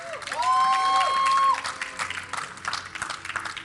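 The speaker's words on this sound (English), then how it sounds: "if you guys want to cheer for the blue team, for Dignitas, let me hear you guys in the crowd" Cheers and applause swell from an in-person crowd at an esports event backing the blue team, Dignitas, a sustained roar with a high whistle or horn tone, then scattered clapping and shouts tapering off.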